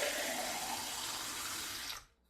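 Water runs steadily from a tap with a bright, hissing splash that cuts off abruptly near the end, leaving near silence.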